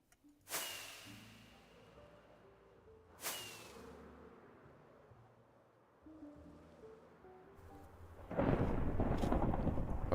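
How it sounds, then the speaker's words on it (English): Minecraft rain sets in as a loud, steady hiss near the end, after two sharp thunder cracks and a quieter stretch, with no talking. "Get rid of this rain."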